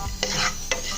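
Pumpkin seeds being stirred and roasted in a frying pan, a soft sizzle under two scraping strokes of a spoon across the pan, close and clear with no voices.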